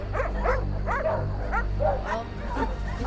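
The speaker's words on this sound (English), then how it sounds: "there was a pack of dogs" A pack of dogs barks outdoors, giving about seven or eight yapping barks at a fairly even pace over a low rumbling background. The barks sound moderately close.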